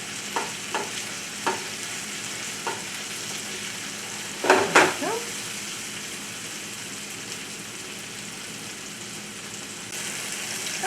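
Shallots fry in a pan with a steady soft sizzle, broken by a few light clicks and a louder clatter of stirring near the middle, with no talk.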